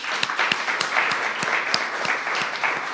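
Audience applause at a legal centre certificate ceremony for about 30 graduates, a continuous wash of many hands clapping with a few sharper individual claps standing out, fairly close and steady.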